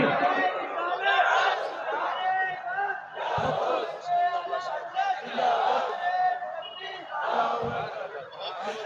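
Crowd of listeners at a Hindi Islamic sermon gathering shouting back a response to the takbir call, several loud surging waves of massed voices rising and falling together.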